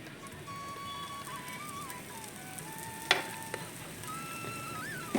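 Apple pancake batter cooking in ghee on a pan gives a soft, steady sizzle up close, broken by a few light utensil clicks toward the end.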